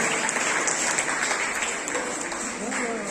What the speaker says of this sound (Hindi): बच्चों ताली बची रहनी चाहिए।